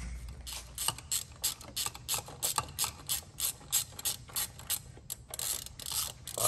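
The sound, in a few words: ratchet removing valve cover bolts on 2002 Chevrolet Trailblazer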